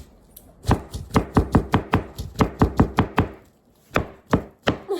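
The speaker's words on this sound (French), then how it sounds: "coupe du melon d'eau" A knife cuts through a watermelon onto a board, giving a run of sharp, close knocks in a steady rhythm, followed after a short gap by a few more spaced strikes.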